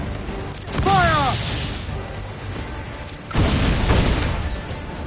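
Sailing-ship cannons in Assassin's Creed 4 Black Flag fire in two heavy, booming volleys a few seconds apart, each leaving a rumbling tail. A voice shouts briefly over the first volley.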